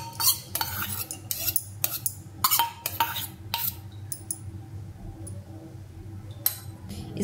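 Thick soaked flaxseed gel tipped from one pot into another, with a run of sharp metallic clinks and scrapes of a utensil against the vessel, then quieter scattered taps, close up and without talk.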